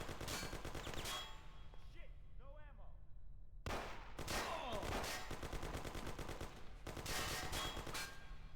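Rapid gunfire in the video game Mafia: The City of Lost Heaven, Hell on Earth mod, with dense automatic bursts and a brief lull before firing resumes, alongside other game effects.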